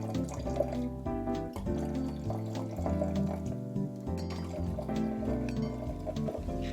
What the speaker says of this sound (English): the Prosecco, when you pour it over ice, it tends to fizz up even more